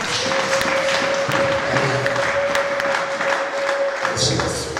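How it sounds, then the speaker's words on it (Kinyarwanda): Steady applause from a congregation during a church service fills the room, a dense, continuous patter of clapping with a faint sustained tone underneath and no speech. "tugukorera amashyi y'Imana"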